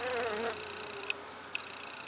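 Honey bees at an open hive in a queenless colony, a steady soft buzzing drone with one brief louder hum near the start and two short faint zips as single bees pass close.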